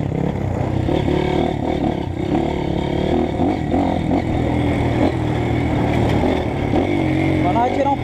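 A trail motorcycle engine idling and revving steadily to warm up on a slippery dirt hill, a constant close mechanical drone with people talking over it.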